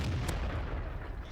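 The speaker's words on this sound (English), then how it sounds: "Good HE shot, though. I really like the HE shot." A high-explosive tank shell fires in World of Tanks: one heavy boom with a low, rumbling tail that fills the short moment, loud and close, with no voices.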